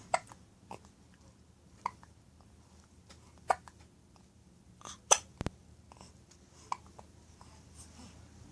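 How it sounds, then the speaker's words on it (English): A baby hiccups repeatedly, small sharp catches spaced roughly a second or two apart, soft and close over a faint room hum with no talking. "Oh, these hiccups."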